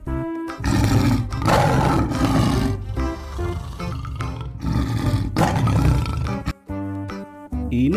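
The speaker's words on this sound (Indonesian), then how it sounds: "ada singa teman-teman." A lion gives deep, powerful roars, loud and close, in repeated long bursts with brief gaps between them.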